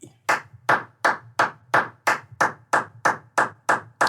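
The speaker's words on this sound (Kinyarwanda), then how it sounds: "Nous vous invitons à applaudir et à pousser des cris de joie pour Afrique Lève-toi 2020" An audience at a Christian gathering claps together in a slow, even rhythm. About a dozen loud, sharp claps land evenly in time, with no cheering or voices.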